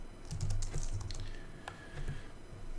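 Quick, irregular clicks of keys on a computer keyboard come up close in short bursts with brief pauses, heard alone without talk.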